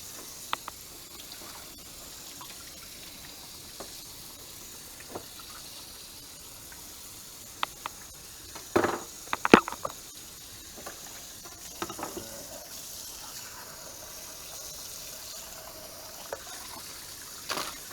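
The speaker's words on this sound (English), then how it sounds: "get this water running here." Tap water running outdoors while brown trout are cleaned, a faint steady hiss of flow throughout with a few brief louder splashes and knocks near the middle.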